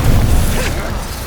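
A Confringo fire spell blasts in Hogwarts Legacy combat, a short whooshing burst with a heavy low-end thump that fades over about a second.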